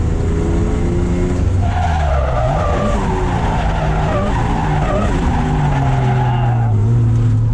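A car drifting at a drift event, driven with a hydraulic handbrake: loud, continuous tire squeal and skidding over a straining engine note throughout, close and with no talking.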